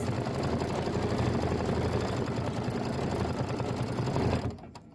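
Embroidery machine stitching in lemon ice thread on a Kimberbell Thanksgiving pillow design, a loud, steady rapid mechanical chatter close by that cuts off near the end.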